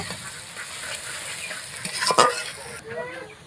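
Garlic paste frying in a pan for a goat meat curry and being stirred, a close steady sizzle with a few louder scraping strokes near the middle and a faint voice-like squeak.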